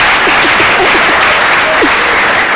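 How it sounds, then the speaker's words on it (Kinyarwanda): A crowd at a live event applauds loudly and continuously, a dense close roar of clapping with a few faint cries and whistles mixed in. "amashyi menshi"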